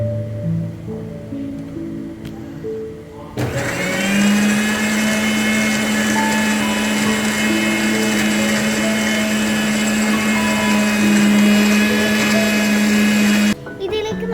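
A blender whirs loudly after a short pause, crushing avocado with milk and ice cubes into a shake, a steady high motor drone that runs for about ten seconds before cutting off sharply.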